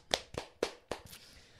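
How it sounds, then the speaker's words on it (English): A short burst of applause at a podcast awards segment: a few quick, separate claps, faint and close, fading out without talk. "Applause all round."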